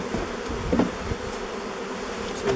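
Honey bees buzz continuously in a beehive opened after more than 30 years, a dense steady hum from many insects close by, with a few faint knocks of frames and no talking.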